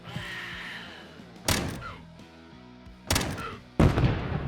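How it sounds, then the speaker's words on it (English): Explosions in the video game Quasimorph, heard as three sharp bursts that rise abruptly out of low background game sound and music and then decay quickly. "There's that explosion."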